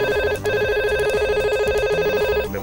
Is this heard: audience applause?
no